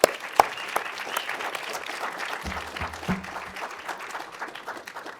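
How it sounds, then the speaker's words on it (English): An audience at a pitch competition applauds the competitors with a full round of clapping, opening with a few sharp close claps and settling into a steady crowd patter, with a low murmur briefly underneath midway. "Can we get one more round of applause for all the competitors today?"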